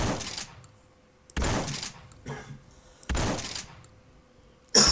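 Silent slug shotgun rounds fired in a video game: four loud, sharp blasts roughly a second and a half apart, each trailing off into a short echo, with quiet gaps between.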